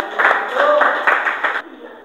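Short burst of clapping from a small class after a group presentation in an Indonesian teacher training session, several hands clapping closely for about a second and a half before stopping abruptly, with voices mixed in.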